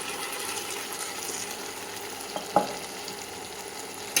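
Onions frying in a pan while being stirred: a steady close sizzle with faint scraping, and one sharp clack of the utensil near the middle, with no voices.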